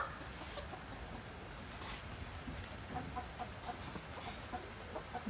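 A farm poultry yard holding geese and chickens gives faint, scattered clucks and soft bird calls over a constant background hum, with no talk heard.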